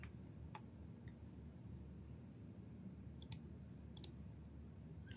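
Computer mouse clicking during office software data entry, a few faint sharp clicks, single and in quick pairs, spaced over a quiet room hum.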